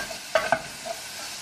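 Shallots turning in olive oil in a pan over the heat, a couple of sharp stirring scrapes over a steady soft sizzle, close by, with no voices.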